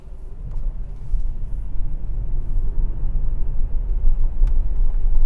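A 2018 Tesla Model S P100D Ludicrous electric car on bald tires accelerating at normal pace on a street, a steady low road rumble and tire noise building slightly, heard from inside the cabin with no talk.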